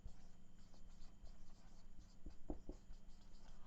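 Pen scratching a sentence onto paper during an English grammar lesson, soft close strokes with a few sharper taps midway over a steady low hum.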